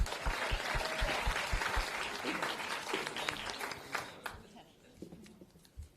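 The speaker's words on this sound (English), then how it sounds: "One more round of applause for everybody." An audience at a university startup pitch finals event applauds, dense clapping that swells then thins out and fades over several seconds, with a voice speaking over the start.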